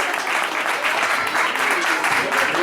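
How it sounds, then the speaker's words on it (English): Crowd at an independent wrestling show applauding and cheering in a steady, dense wash of clapping that holds throughout, with faint voices mixed in. "Round of applause for these men"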